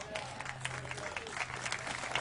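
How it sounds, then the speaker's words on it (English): Audience applause at a memorial ceremony aboard the USS Cod submarine for the Pearl Harbor anniversary, a steady wash of many hands clapping at moderate distance, with a low tone running under part of it. "I see hands clapping"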